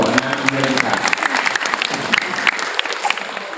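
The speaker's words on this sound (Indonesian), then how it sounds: "Kasih tepuk tangan dulu." Audience applause at an Indonesian religious lecture, a loud, steady burst of many hands clapping with some voices mixed in throughout.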